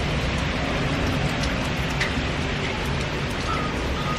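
Heavy rain pouring during a Florida storm at Epcot, heard from under cover at the UK pavilion as a constant dense hiss with a faint low rumble beneath, no voices.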